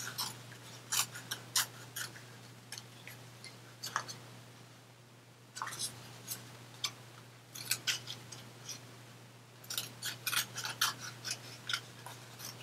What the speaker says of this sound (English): Just cutting these down.